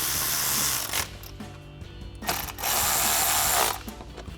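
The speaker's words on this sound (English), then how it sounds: "To bolt these down, we're going to be using a 10mm socket and a ratchet." A ratchet with a 10mm socket tightens hardware on a 2022-2026 Toyota Tundra during a charge pipe install: two bursts of fast ratcheting clicks, close and loud, with a quieter pause between them.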